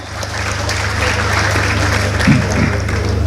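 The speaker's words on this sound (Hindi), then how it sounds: "और जोरदार तालियां" Loud, steady applause from a large crowd filling the whole stretch, with a low hum underneath and a voice briefly audible.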